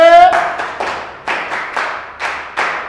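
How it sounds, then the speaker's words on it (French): A class claps hands in sharp, evenly spaced bursts, about eight reverberant claps in a room, with a brief voice at the very start. "Allez, bravo, applaudissez."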